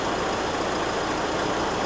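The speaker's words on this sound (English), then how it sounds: "Okay, so our engine's now running." A commercial vehicle's diesel engine idles on a diagnostic test, a loud, steady, close-up rumble with an even broadband drone and no talking.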